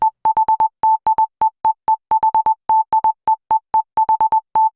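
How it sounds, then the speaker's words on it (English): A pure sine-wave synth tone is gated on and off in a 16th-note MIDI pattern, producing short, clean beeps with abrupt starts and stops in an uneven rhythmic sequence, loud and alone against silence. "I just use a sine wave or a saw wave, maximum sustain, minimum release"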